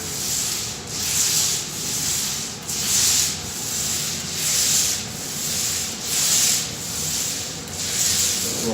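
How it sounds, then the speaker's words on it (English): A paint roller working epoxy floor coating back and forth, a close rhythmic hissing swish repeating about every second and a half, steady and alone without talk. "I'll roll one way, I'll roll the other."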